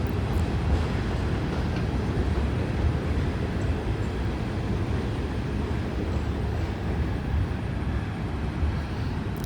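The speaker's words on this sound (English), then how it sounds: "Pretty long train." A long train rolls past nearby in a steady, unbroken rumble of wheels on rail, holding an even loudness throughout with no voices over it.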